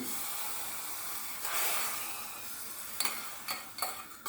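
Hot oil with mint is poured onto yayla soup, giving a sudden broad sizzling hiss that swells and then settles into a steady fizz, with a few sharp crackles and spits near the end.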